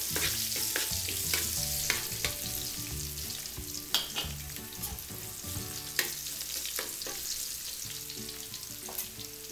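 Garlic sautéing in a pan, a soft steady sizzle with sharp clinks and scrapes of a spatula stirring every second or two, quiet and close with no voices.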